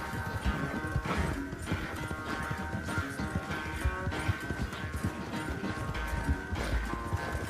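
Arabian thoroughbred horse galloping in the video game Red Dead Redemption 2, rapid steady hoofbeats under a dense bed of game music and ambience, continuous and fairly loud throughout.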